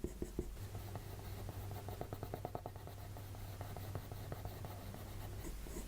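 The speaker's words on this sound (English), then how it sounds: "So now I'm creating even more shape by just shading a little bit more on the side." A soft, dark pencil shades across paper in quick, repeated scratchy strokes, close and fairly quiet, with a faint steady hum underneath.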